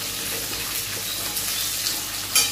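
Onion just added to a hot pan, giving a steady broadband sizzle with a soft rise at the end, close and even, with no talking.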